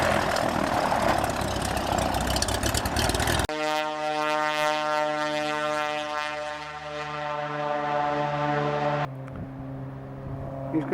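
A propeller airplane flies overhead in Katmai, Alaska, its engine drone loud and close with a steady harmonic buzz that shifts pitch as it passes, then drops to a fainter hum.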